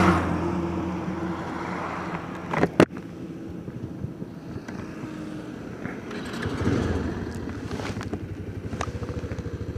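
A Bajaj Pulsar 220 motorcycle pulls away in first gear on a road, its engine drone rising and falling under heavy wind buffeting on the microphone, with a couple of sharp knocks and no talk.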